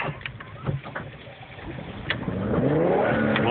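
A rally car engine revs and accelerates, its rising drone climbing steadily toward the end over a rough, noisy outdoor background.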